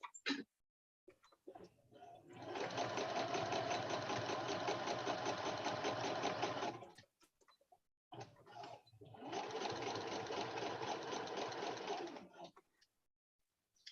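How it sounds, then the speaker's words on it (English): Sewing machine stitching pockets onto a quilt block, running in two long steady bursts of several seconds each with a brief pause between, close and fairly loud, with no talk over it. "I'm just going for it, sewing the pockets on where they are."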